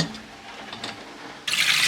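Cold tap water rushes onto boiled eggs, a bright hissing stream that starts abruptly near the end after a quieter moment of faint kitchen sounds.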